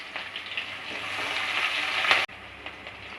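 Onion and green chilli frying in a pan for a bhindi masala, a steady close sizzle that swells over a couple of seconds, then cuts off abruptly and resumes a little quieter.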